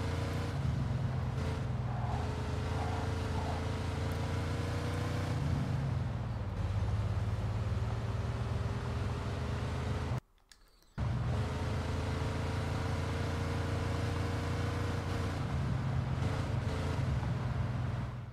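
A car drives in the video game Mafia 2 with a low, steady engine drone that runs throughout. The sound cuts out briefly partway through, then resumes.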